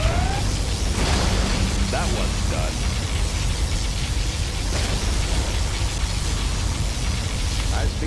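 Particle cannon superweapon firing and explosions in the real-time strategy game Command & Conquer Generals Zero Hour, a dense continuous roar of blasts and mechanical noise with brief game voice lines over it.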